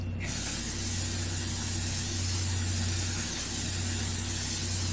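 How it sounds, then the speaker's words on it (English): A steady, continuous hiss of L'Oreal makeup setting spray held for several seconds, close and even, with no other sounds. "And then I'm going in with the L'Oreal setting spray to lock everything in."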